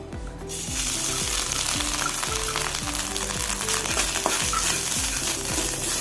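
Loud, steady sizzling of grated coconut frying in hot oil, with a rhythmic scraping of a spoon stirring the pan repeatedly.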